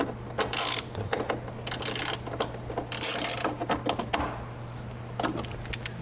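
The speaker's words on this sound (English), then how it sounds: "And then we'll come back and snug them up with the wrench." Wrench tightening bolts during a Jeep dashcam install, a rapid clicking ratchet in repeated bursts at close range, with bright clacks and rattles over a faint steady hum.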